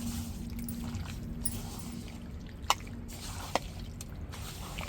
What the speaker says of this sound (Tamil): இப்போ எல்லாத்தையும் மிக்ஸ் பண்ணி அப்படியே விரைவி வச்சுருவோம்